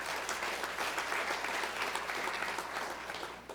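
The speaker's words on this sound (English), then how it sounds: "One more round of applause for them" A round of applause from the audience at a university student media awards ceremony, broad even clapping from a crowd that stays fairly steady and moderately loud throughout, fading a little at the end.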